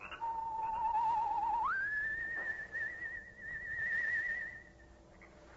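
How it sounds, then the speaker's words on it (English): One person whistles a soft signal on a still night, a single sustained whistled tone that rises in pitch, then holds steadily before fading, heard alone against a quiet background. "a soft, whistled signal rides the still night air"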